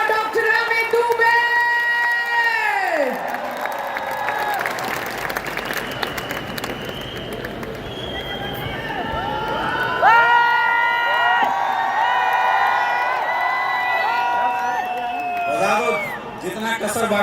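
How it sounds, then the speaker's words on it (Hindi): A crowd at a stage show claps and cheers loudly for a newly recognised Royal Ambassador, with sustained applause and whoops layered over loud music throughout. "जोरदार तालियां for the new royal ambassador"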